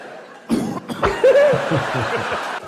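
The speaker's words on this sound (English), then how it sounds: "Just coughing." A few short, rough coughs in a noisy room, with murmuring voices and light laughter around them.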